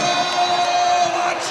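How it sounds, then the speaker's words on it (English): Home crowd at a Fresno State Bulldogs men's basketball game against Air Force cheers and whoops loudly and steadily in a large arena, a dense sustained roar with no gaps. "the home crowd will celebrate a 14-point Bulldog win"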